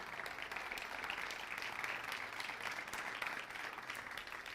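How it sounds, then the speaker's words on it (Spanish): A church congregation gives a steady, dense round of applause, continuous and fairly distant-sounding throughout, with no speech over it. "Denle un aplauso al Señor"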